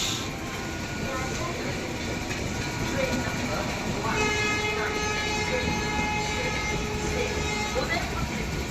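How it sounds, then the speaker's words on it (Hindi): The Karnataka Sampark Kranti Express rushes non-stop through a busy station platform near Agra, its loud steady rail rumble mixed with the drone of a platform announcement and a sustained horn blast partway through. "सामने आ चुकी है कर्नाटका संपर्क क्रांति एक्सप्रेस।"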